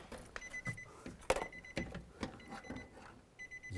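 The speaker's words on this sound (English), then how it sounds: "Just wait for that beeping to stop." A 2005-2015 Nissan Xterra sounds a repeating electronic warning beep after the key is turned off, a series of faint, evenly spaced tones mixed with light clicks and handling noises nearby.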